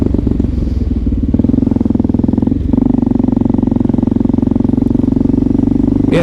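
Two-stroke motorcycle engine idling nearby on a New York City street, a steady loud buzzing drone with a rapid pulsing beat, a brief dip near the middle before it resumes.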